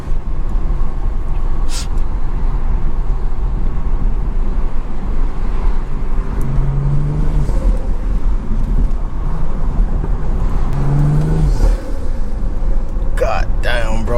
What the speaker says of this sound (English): Y'all hear that turbo? I'm telling y'all, the intake is crazy loud there.